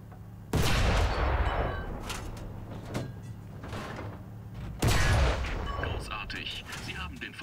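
Tank gunfire in the video game War Thunder: two heavy, booming cannon shots several seconds apart, each followed by a long rumbling tail, with softer mechanical clatter and intermittent voices in between.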